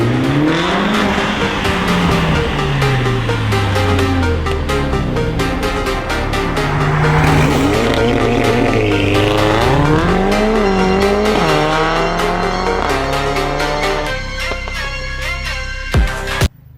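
A 2026 Mercedes GLC 300 SUV in sport mode accelerating hard, its engine loud and close, pitch climbing repeatedly through successive gear changes before cutting off abruptly at the end.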